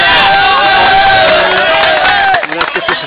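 Spectators at a 2009 school handball league match cheer and shout loudly after a goal, a dense crowd roar with overlapping voices that holds steady before breaking into scattered calls near the end.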